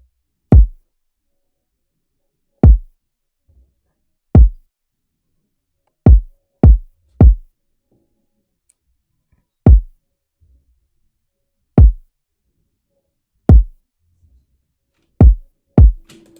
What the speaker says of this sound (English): So this is our kick.